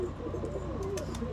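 Domestic pigeons coo softly and briefly, a low, throaty warble close by against a steady background hum.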